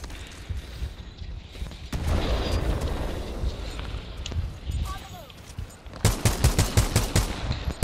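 Gunfire in the video game Titanfall 2, a rapid burst of repeated shots in the final seconds after a rumbling stretch of game noise, loud and close, with a voice speaking over parts of it.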